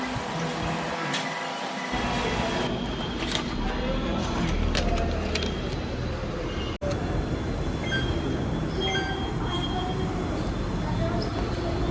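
Busy Pune railway station ambience: a constant broad rumble of machinery and crowd noise, with scattered clanks and clatters throughout.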